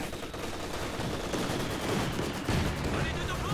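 MG34 machine gun fire in a Company of Heroes 2 match comes as dense rattling bursts mixed with other battle gunfire, steady and busy throughout at moderate loudness.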